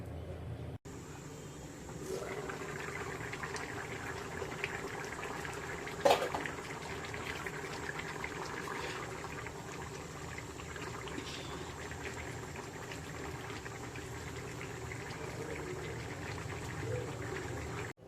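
Drumstick curry simmering in a covered pan over a low gas flame, giving a faint, steady bubbling hiss with a few soft clicks and a brief knock midway.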